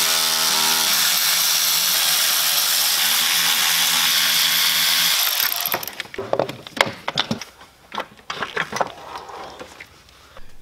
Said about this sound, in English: we're going to remove the bolts one at a time out of this thing and replace them one at a time with our